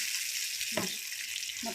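A tempering for tomato chutney sizzles in a pan, giving a brief, steady, close frying hiss with a couple of soft scrapes or clinks.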